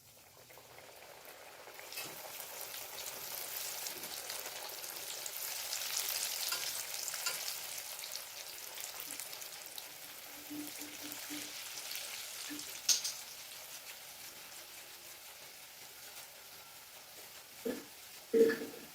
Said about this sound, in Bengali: এরকম করে নাড়লে নিমকিটা ফুলে উঠবে বলো নিমকিটা আমি হালকা একটু ভাজতে দেবো